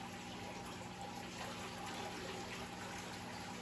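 Water gushes and drains steadily through a net as Fahaka pufferfish are poured out of a container, a continuous close rushing wash lasting the whole stretch with no talking.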